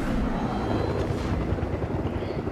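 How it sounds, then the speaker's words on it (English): A video game helicopter drones steadily overhead, a constant loud rotor rumble with no talking. "I'm hiding in the bush to avoid the chopper."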